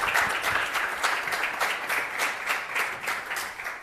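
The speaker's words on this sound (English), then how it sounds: "give Sasha a round of applause" An audience claps warmly as a speaker takes the stage at a live event in Berlin, a steady wash of applause that swells and dips slightly across its length.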